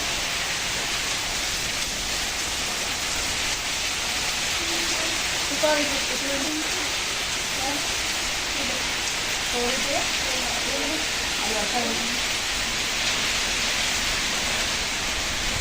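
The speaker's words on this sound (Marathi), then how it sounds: "पाऊस तर जोरात पडायला आहे" Heavy rain pours down in a dense, steady hiss, with faint voices murmuring underneath.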